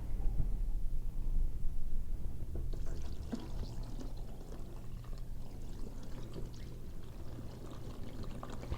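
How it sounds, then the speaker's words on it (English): Brine pouring over a whole turkey being brined for smoking, a steady liquid splash and trickle running the full length, fairly close and continuous with no talking. "we're going to pour our brine directly over top of it."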